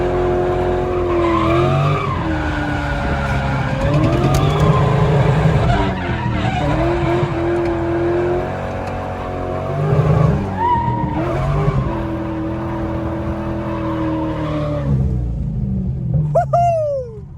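A Corvette Z06 drift car, shod with worn ATR tires, skids and slides under e-brake, its engine howling with rising and falling revs over continuous tire squeal and rumble, close and loud, ending in a sharp screech.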